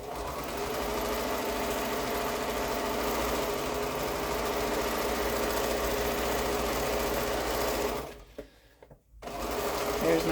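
Domestic sewing machine stitching quilt block seams, a steady close motor whir running continuously for about eight seconds before briefly stopping and then starting again.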